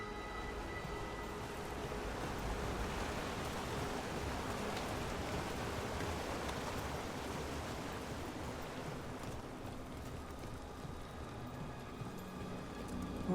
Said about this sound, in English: By the waterfall.